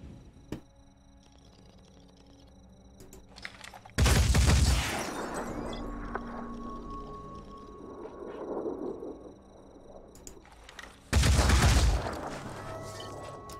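Gunfire in the tactical video game Phoenix Point, heard as two loud, dense volleys of shots several seconds apart, each followed by a lingering rumble against a quieter in-game background.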